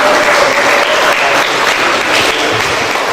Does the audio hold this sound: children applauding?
yes